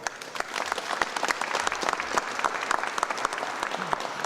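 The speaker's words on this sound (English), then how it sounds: "Let's applaud him." Audience at a Senate press conference applauding a guest, a moderate, steady spread of many hands clapping, slightly distant and uneven, with occasional sharper individual claps standing out.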